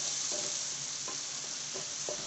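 Paneer butter masala mixture sautéing in a pan, a quiet steady frying hiss broken by four or five soft spoon scrapes at irregular intervals, with no voices.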